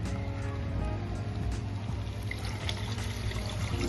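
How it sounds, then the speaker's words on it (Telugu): Water pours steadily into a pan of egg masala curry with yogurt, a continuous close trickling and splashing rush with little change over a few seconds. "కాస్త వాటర్ పోస్తున్నాం"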